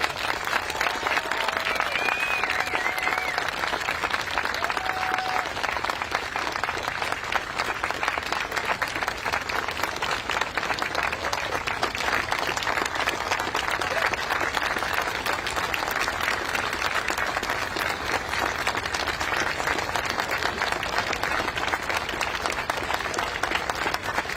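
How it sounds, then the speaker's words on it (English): Sustained applause from a crowd at a Veterans Day ceremony honoring veterans, a steady dense clapping that holds for over twenty seconds with a few faint voices and whistles mixed in. "a big round of applause for all"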